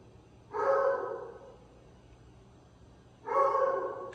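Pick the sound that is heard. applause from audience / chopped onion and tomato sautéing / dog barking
dog barking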